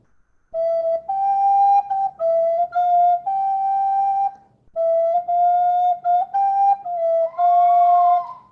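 Recorder played with a warm, gentle breath, giving a clear, steady, soft tone in a run of sustained notes with small pitch steps and a short pause midway, close and alone.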